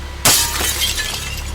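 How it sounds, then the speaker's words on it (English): Glass in a front door smashed with a knife, one sharp loud shattering crash followed by scattered falling shards tinkling for about a second, close and alone. "The leader has a knife and uses it to break the glass in my front door."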